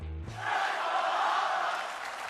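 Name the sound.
wrestling crowd chanting in Riyadh arena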